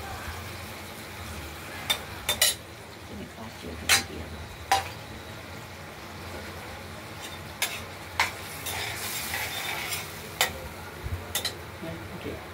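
Spices being stirred and fried in a pan for a boal fish curry with potatoes and coriander, soft continuous sizzle broken by repeated sharp spoon clicks and scrapes against the pan at irregular intervals, close by, no speech.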